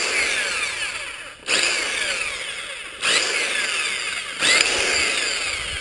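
A Black and Decker Alligator electric chainsaw buzzes steadily and loudly up close, its motor pitch dipping briefly three times as it bites through branches.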